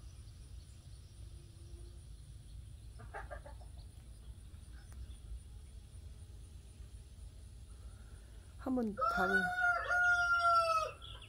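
Farm chickens give faint clucks and a brief call early on, then a rooster crows loudly and clearly near the end, over a quiet background.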